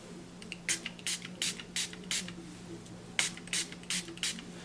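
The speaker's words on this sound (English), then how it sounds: "the lace tint spray I'm gonna use today is from WigStensions, and it is in the color Golden" A series of short, sharp bursts of lace tint aerosol spray on a wig, about nine quick hisses in two clusters, fairly close, over a faint steady background hum.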